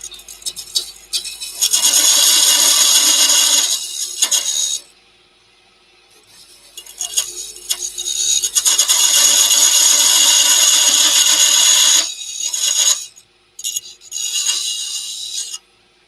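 A wood lathe turns a lid while a tool rasps against the spinning wood in loud, harsh scraping bursts of a few seconds each, separated by short quiet gaps, with no talk.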